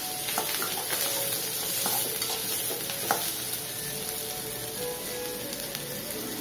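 Chana dal and onions frying in a pan for kara paniyaram, a close, continuous crackling sizzle with scattered spatters and light stirring scrapes, steady in loudness with no talk.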